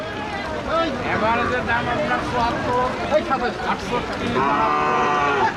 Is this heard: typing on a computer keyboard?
no